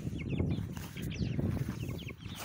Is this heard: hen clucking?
yes